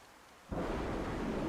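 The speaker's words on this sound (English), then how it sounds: "I'm just fucking staying out the rain now." Steady rain pours down in a survival video game, starting abruptly after a quiet moment and continuing as a dense, even hiss with low rumbling underneath.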